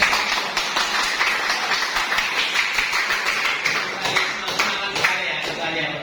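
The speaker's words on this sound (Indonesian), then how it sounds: "Tepuk tangan kita." Students in a classroom clap together in a steady patter of many hands, with faint voices mixed in underneath.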